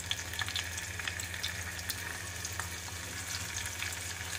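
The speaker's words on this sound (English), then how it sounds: "I'm going to put the shrimp inside. Okay, let's fry them." Shrimp fry in a pan for aglio olio, giving a soft, steady crackling sizzle with scattered pops, fairly faint and heard alone.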